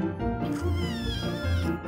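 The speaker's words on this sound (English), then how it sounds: "These five rambunctious kittens are domestic shorthairs, the most popular cats in the world." Several domestic shorthair kittens meow loudly and close by, a string of overlapping high, wavering cries with brief pauses between them.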